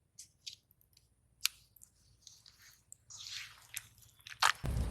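Hands knead a soft dough of mashed banana and sugar, making wet squishing and sticky smacking sounds in short, irregular bursts that grow louder toward the end, with no talking.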